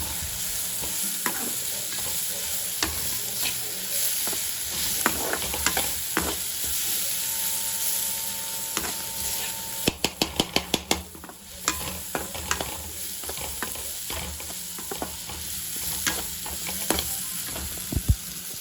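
Vegetable fried rice with carrot, beans, cabbage, green chilli and onion sizzles steadily in a pan while a utensil scrapes and clacks through it in irregular bursts, close and continuous, with no talking.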